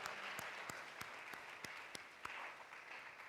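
A church congregation at a Sunday service claps along in a steady rhythmic beat, sharp hand claps landing roughly every third of a second over a bright, continuous crowd wash in a reverberant hall.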